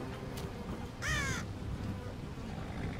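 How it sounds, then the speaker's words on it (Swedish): A raven in a Game of Thrones video game lets out a single harsh caw, clear and fairly close, over a steady low ambient hum. "Maskar och korpen käkar på dem."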